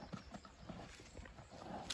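Hooves of a Polish-bred stallion clip-clopping, a faint, irregular series of hoof strikes on firm ground with a brief snort or whinny-like sound near the end.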